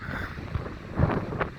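Freezing cold wind buffets the microphone on the Blackpool promenade in winter, a steady low rumbling gust with a few louder surges and no talk.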